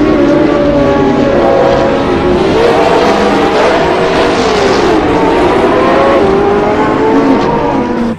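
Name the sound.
blue toy race car engine sound effect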